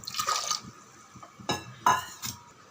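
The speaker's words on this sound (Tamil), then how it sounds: "பருப்பு முழுகிற அளவுக்கு தண்ணி வைங்க" Water poured over lentils in a pressure cooker for tomato dal sambar, heard as a few short splashing, trickling bursts with quiet gaps between them and no talking.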